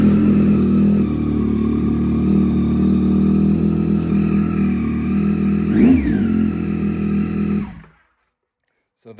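A 2025 Honda Rebel 1100 non-DCT motorcycle idling with a steady, loud, low engine rumble, one short rev midway, then the engine cuts off and goes quiet near the end.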